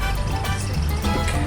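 River water sample being poured into a test container during estuary field sampling, a continuous close liquid pouring and trickling sound.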